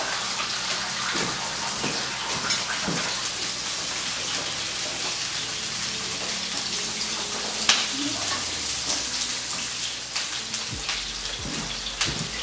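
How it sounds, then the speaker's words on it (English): Water pours steadily into a cooking pot of chicken for maqluba, a continuous splashing rush with a few faint knocks, no talking. "and we're going to just add the water."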